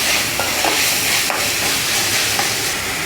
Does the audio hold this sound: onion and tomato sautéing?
yes